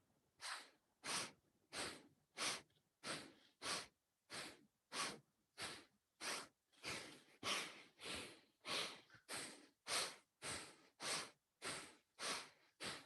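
Rapid, forceful breaths in a breathing exercise, about twenty in steady rhythm, each a short, close, noisy rush of air with no talk.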